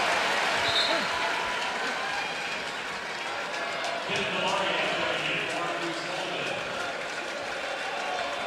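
A basketball arena crowd applauds a player's effort at a Duke game, a broad wash of clapping and murmur filling the hall steadily while a commentator talks over it.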